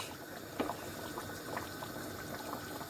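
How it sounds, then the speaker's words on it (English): Thick Nigerian yam porridge bubbles and pops steadily in a pot, with sweet pepper and other ingredients cooking in it; a continuous low simmering churn is broken by occasional louder, sharper pops, and no one speaks. "It's cooking, popping up. Look at the yam porridge."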